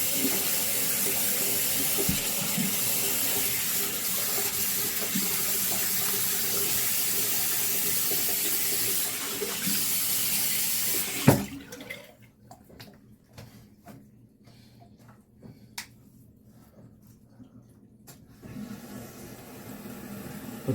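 Running water rinses at a bathroom sink while shaving and grooming a mustache, a steady loud hiss of the tap for about eleven seconds that cuts off abruptly, leaving quiet dripping and small handling clicks.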